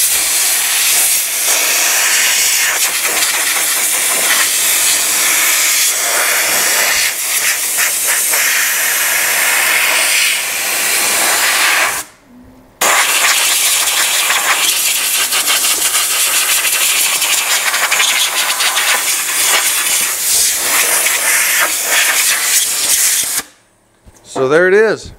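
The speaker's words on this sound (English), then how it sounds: "All I really want to do is dry it up using that air." Compressed air blows steadily from a nozzle to dry a stripped lathe headstock cover, a loud continuous hiss that cuts out briefly twice, with a voice heard in between.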